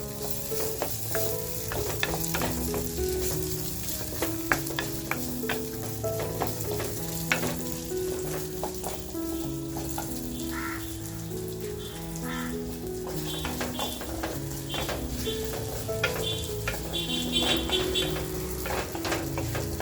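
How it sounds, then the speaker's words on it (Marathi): Dried, salted Bombay duck fish frying over a slow flame, a steady close sizzle with frequent spatula scrapes and clinks throughout, heard under continuous background music. "बघा बोंबील मी स्लो फ्लेमवरती फ्राय करते म्हणजे हलकेसे गरम करून घेते"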